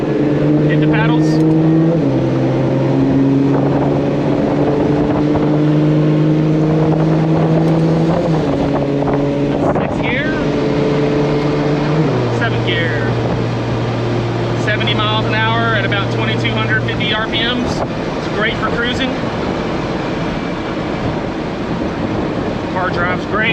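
A loud 2JZ engine in a dual-clutch-swapped BMW E30 drift car revs and climbs through the gears via paddle shifts, pitch stepping up and dropping with each quick shift, while someone talks over it.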